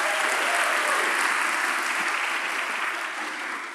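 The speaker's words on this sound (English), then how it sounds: "Give her a round of applause." Audience gives a round of applause at a corporate keynote, a loud, dense wash of many hands clapping at once that holds steady and then slowly tapers toward the end.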